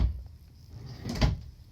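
A short wooden drawer in a 2021 Forest River Arctic Wolf 3770SUITE RV slides and thumps shut, close and moderately loud, after a quiet stretch.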